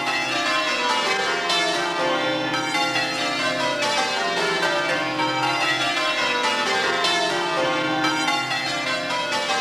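London church bells peal continuously in a dense, overlapping wash of ringing tones, steady and loud throughout with no voices.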